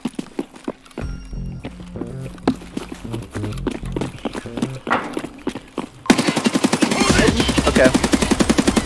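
Guns fire in the video game Escape from Tarkov. Scattered shots and footsteps give way to a loud, sustained burst of rapid automatic fire in the last few seconds.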